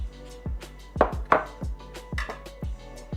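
A knife slices a lime down the middle on a cutting board, a series of sharp, close chopping taps in a steady rhythm with two louder strikes near the start, alone with no talk.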